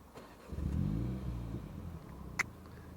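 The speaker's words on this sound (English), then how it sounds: "If I start the car up, listen." A Mini Cooper S Convertible engine cranks and starts, swelling into a steady idle rumble up close, followed by a brief sharp click near the end.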